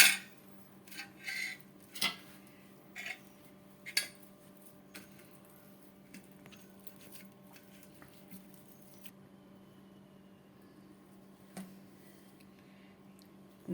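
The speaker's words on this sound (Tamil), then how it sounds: "இப்போ நான் ஒரு 4 உருளைக்கிழங்கு வேக வச்சு எடுத்துருக்கேன். இதை நம்ம நல்லா மசிச்சுக்குவோம்." Four boiled potatoes are mashed in a bowl, soft squishy presses and scattered clinks of utensil against the bowl, busier at first, then sparse and quiet.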